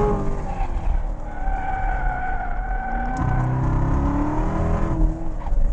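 Chevrolet Corvette C7 Z06 understeering around a skid pad, its tires squealing in long drawn-out tones over a steady engine drone, loud and close from inside the car.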